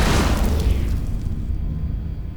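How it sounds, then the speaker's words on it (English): An enemy torpedo slams into the starship Odysseus in a loud, deep explosion, a heavy rumbling blast that hits at once and slowly fades over a couple of seconds, with no voices. "Warning. Incoming enemy torpedo."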